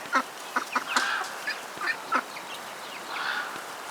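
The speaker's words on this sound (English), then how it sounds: "Some ducks. Hanging out there in the back." Ducks kept on a homestead, hanging out in the back near a chick pen, give a series of short honking quacks at moderate distance, with quieter chatter in between.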